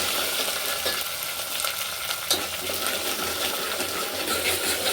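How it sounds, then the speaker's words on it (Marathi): A spoon stirs paneer masala gravy as it fries in a pan, giving a steady soft sizzle with light scraping and occasional small clinks, fairly quiet and without talk. "त्याला पण व्यवस्थित चमच्याने हलवून थोडंसं चांगलं शिजू द्यायचं आहे."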